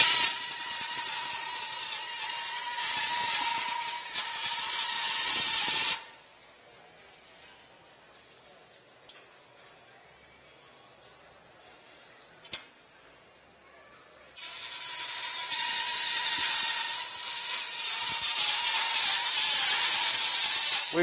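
Bandsaw cutting metal in a garage, a loud whining buzz for about six seconds, then quiet with a couple of sharp clinks, before the shrill cutting resumes strongly for the final stretch.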